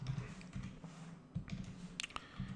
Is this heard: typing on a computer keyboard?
yes